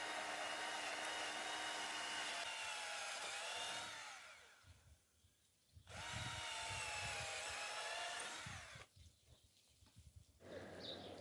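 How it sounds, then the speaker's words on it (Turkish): A power drill bores screw holes for a garden fence assembly, two long loud whining runs with changing pitch, each followed by a short quieter stretch of knocking and handling. "Şimdi babam vidaların daha kolay geçebilmesi için vidalar için delik yapıyor."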